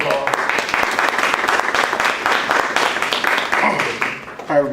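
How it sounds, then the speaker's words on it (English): Audience applause at a gun safety event in Warren, Michigan: steady, dense clapping from a crowd throughout, tapering slightly near the end as a voice begins to speak. "give them a round of applause."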